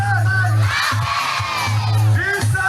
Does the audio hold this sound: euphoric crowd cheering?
yes